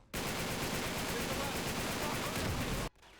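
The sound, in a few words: gunfire from snipers and enemies in video game Uncharted 3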